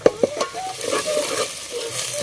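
A spoon stirs spice paste into fish curry frying in a pan, with a few sharp scrapes at the start and then a steady close sizzle and stirring.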